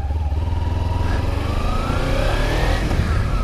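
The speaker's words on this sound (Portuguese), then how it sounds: "Eu passo com a verde acelerando." A Kawasaki Ninja motorcycle accelerates past with a loud, steady engine roar, the pitch climbing as it revs through the gears close by. No voices are heard over it.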